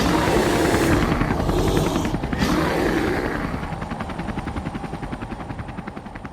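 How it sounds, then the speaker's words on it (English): A loud helicopter roars close by, flying into a snowstorm, its rotor chop growing into a steady rapid thudding as it slowly fades into the distance. "the helicopter flew on into the snowstorm"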